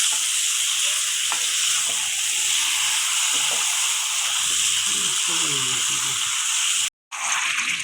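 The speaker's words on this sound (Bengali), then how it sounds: "এখন মাংসগুলি আমার ভালো করে কষাতে হবে।" Chicken pieces sizzle and fry steadily in hot oil with spices for Bengali-style chicken kosha, a constant bright hiss with stirring scrapes throughout and a brief break near the end; no one speaks.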